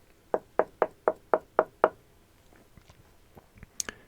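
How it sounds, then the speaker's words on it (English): Seven quick, evenly spaced knuckle taps on a door ring out close and crisp, followed by a few faint scattered clicks and small sounds in a quiet room. "someone tapped at the door"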